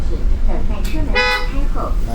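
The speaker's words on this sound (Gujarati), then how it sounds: "એક વાર હોરન વગાડે એટલે ખબર પડે ઊભું રહેવાનું છે" A short bus horn honks amid people talking and the steady rumble of a vehicle.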